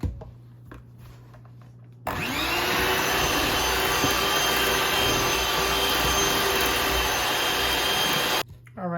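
An electric mixer beats an egg with vanilla extract for sweet potato pie cookie dough, switching on with a loud, steady whirring drone that runs about six seconds before cutting off, close by and without talk.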